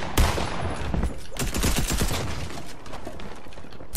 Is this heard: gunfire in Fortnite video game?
yes